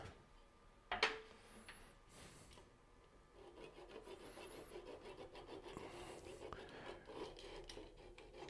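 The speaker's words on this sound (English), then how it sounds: "We'll go ahead and just cut that off with the little saw." A small hand saw cuts a little wooden nub off a turned lidded box, giving a soft rhythmic rasping after a sharp knock, quiet and close, with faint low talk beneath.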